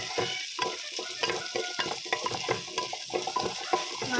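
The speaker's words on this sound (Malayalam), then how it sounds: "നന്നായിട്ട് ഇളക്കി കൊടുക്കണം" Curry masala being stirred in a pan, with a rapid run of close clinks and scrapes over a light sizzle and no one speaking.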